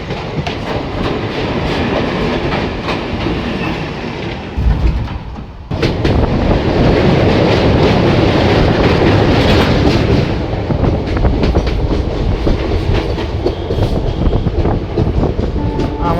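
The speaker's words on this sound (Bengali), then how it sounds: "ভোরবেলা ফাঁকা ফাঁকাই যাচ্ছে ডানকুনি লোকাল।" A Dankuni local train out of Sealdah passes at dawn, a loud sustained rumble with wheel clatter and rail noise filling the whole stretch, broken by a brief dip midway.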